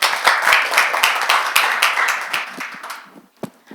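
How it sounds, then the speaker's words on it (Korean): An audience at a university lecture seminar on hearing and digital health applauds to welcome the speaker, steady clapping from a modest crowd that thins out and trails off into a few scattered final claps. "박수로 맞이해 주시기 바랍니다."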